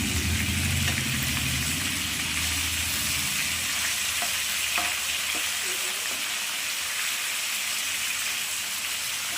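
Pieces of chicken fry for biryani, a continuous close sizzle of hot oil with occasional soft scraping as they are turned, and nobody speaks.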